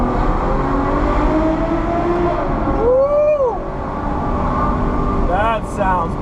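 Ferrari FF V12 engine accelerating inside a road tunnel, a loud echoing roar whose pitch sweeps upward and falls back as revs climb, with a steady rumble of road noise beneath.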